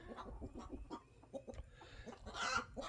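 Three hens clucking close by, a string of soft, irregular clucks and low murmurs with a louder squawk near the end, no talk over them.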